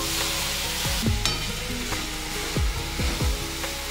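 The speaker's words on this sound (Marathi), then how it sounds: "त्या तुपात आता हे किसलेलं सारण सारण म्हणजे गूळ आणि खोबरं मिक्स केलेलं ते ह्याच्यात भाजायचं." Jaggery and grated coconut filling for modak being stirred and fried in ghee in a pan, with soft sizzling under a steady hiss and a few scraping strokes of the spoon, close and fairly quiet, with no talk.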